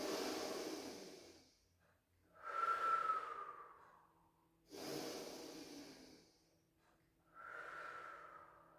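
A person in a stretch class takes slow, deep breaths in through the nose and out, four long airy breaths in a calm, even rhythm, close and quiet.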